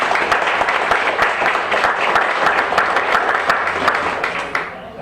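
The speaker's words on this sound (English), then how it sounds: "give Calvin a big round of applause." An audience at a pool tournament breaks into sustained applause, dense close clapping that holds steady for several seconds and then thins out at the end, with no talk over it.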